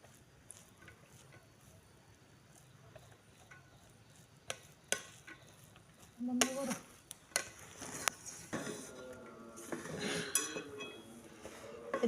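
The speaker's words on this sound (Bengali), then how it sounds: "এটা দিয়ে একটু নেড়ে দিচ্ছি," Cooked pulao (rice pilaf) is stirred in a pot, with soft scraping at first, then louder clinks and scrapes of the spoon against the pot in the second half.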